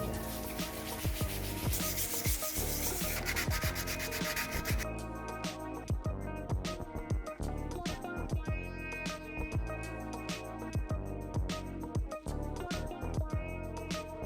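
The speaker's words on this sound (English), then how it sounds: "here I am using a 240 grit sandpaper" Continuous scratchy rubbing of 240 grit sandpaper on a Toyota Corolla KE70 car hood, close and steady, with rhythmic back-and-forth strokes throughout.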